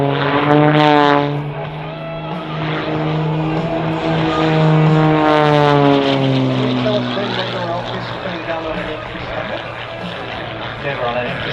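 A Wolf Pitts Pro aerobatic propeller biplane performs at the Australian International Airshow, its engine droning loudly and shifting pitch as it climbs and manoeuvres, while a commentator talks over the PA throughout.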